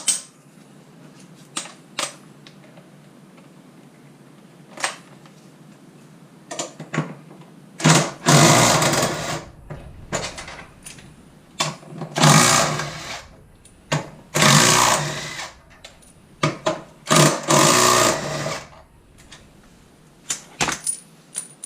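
A 14 mm wrench loosening four upper bolts during a lowering spring install on a Hyundai Genesis R-Spec sedan, with quiet metallic clicks and then loud bursts of ratcheting and clattering, close by and without speech.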